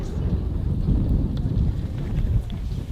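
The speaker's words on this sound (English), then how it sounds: "It's super windy, so I'm sorry if you hear it" Strong wind buffets the microphone at the Mather Point lookout over the Grand Canyon, a steady low rumbling roar that persists loudly for the whole moment with no pauses.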